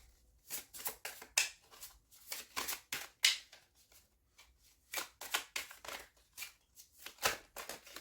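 Crystal oracle cards are shuffled by hand in quick bursts of crisp riffling and slapping, with short pauses between, close and clear in a quiet room.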